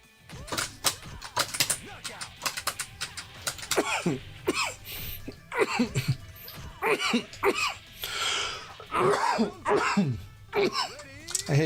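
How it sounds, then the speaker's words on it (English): A lingering cough comes as a series of short coughs and throat clearings in uneven bursts, close and fairly loud, with speech woven between them. "I hate this lingering cough."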